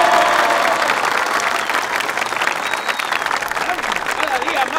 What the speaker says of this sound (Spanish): Señores, un aplauso.